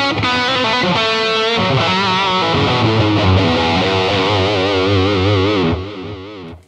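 A high-gain electric guitar lead through an ADA MP-1 preamp, in a big 80s and 90s stereo style with scooped mids, stereo delay and reverb, plays loud sustained notes and bends before trailing off at the end.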